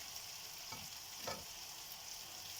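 Steady, dense sizzle of food frying in a pan, continuous and close, with a couple of faint stirring scrapes.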